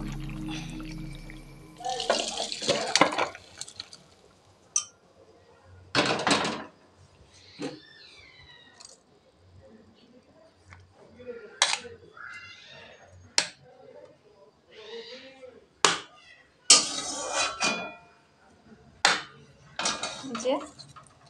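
Metal wok (kadai) being washed under a running kitchen tap, with repeated clanks and scrapes of the pan and splashing water in bursts, some sharp metallic knocks, and faint background voices.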